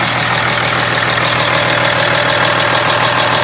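Steady, close idle of a 2013 Ram 2500's 6.7 liter diesel engine, a constant loud rumble with a faint knocking clatter and no variation.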